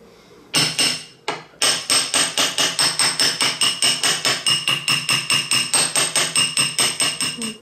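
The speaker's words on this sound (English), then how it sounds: "I'm going to get the same hammer I used and just hit right on" A hammer strikes a metal ring band in a steady, rapid series of sharp ringing blows, close and loud, with a short pause after the first couple of hits.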